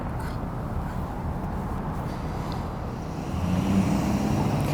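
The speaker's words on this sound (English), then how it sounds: "there's so many cars on this road" Steady traffic on a busy road in eastern Washington near an interstate, a continuous roar of cars passing close by that swells slightly louder near the end.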